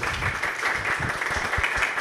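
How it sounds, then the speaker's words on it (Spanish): Audience applause welcoming Julio César Mateus as a special guest on the Conexiones talk show, a steady dense wash of clapping held at even loudness throughout, with no voices over it. "para quien pide un aplauso, por favor"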